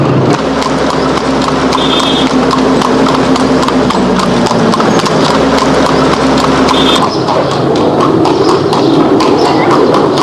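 Horse hooves clip-clop steadily on a road as a horse-drawn tanga cart rolls along in a Pakistani drama scene, loud and close, with cart rattle and a continuous rumble underneath.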